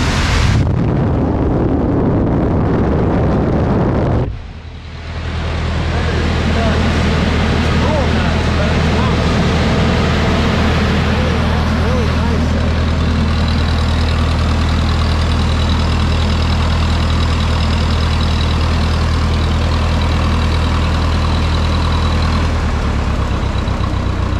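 A big old farm machine keeps winding down after its tractor is switched off, a loud, steady mechanical roar with a brief dip early on, then a sustained hum and whine that carries on throughout.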